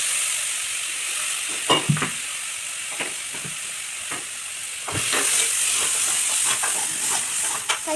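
Shallots, garlic, turmeric and chilli powder fry in hot oil with a loud, continuous sizzle and hiss, broken by scattered clicks and scrapes of stirring.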